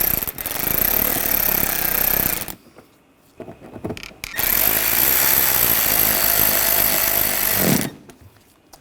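A power tool drives and snugs down screws holding trim panels on a 2013-2022 Buick Encore 1.4L during intercooler replacement, two loud whirring bursts separated by a brief quiet pause.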